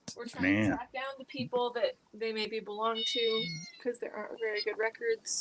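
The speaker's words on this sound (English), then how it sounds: "if you hear screeching, that's the cat now" A cat screeches in a house basement, one harsh burst near the start followed by fainter cries, all under continuous conversation between people.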